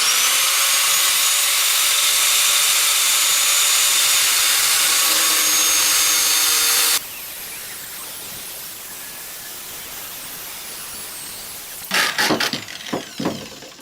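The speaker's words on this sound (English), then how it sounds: "Got my angle grinder here, ready to go, and I'm going to cut two of these 12 inches." An angle grinder cuts square steel tubing in a workshop, a loud steady high-pitched grinding whine for about seven seconds, then a quieter hiss with a few rattling clunks near the end.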